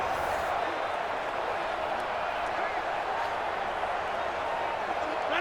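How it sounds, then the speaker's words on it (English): Constant crowd roar in a domed stadium from a Madden NFL video game simulation of a Packers at Saints game, a steady background wash under a commentator's voice. "The crowd here in the Dome making things difficult."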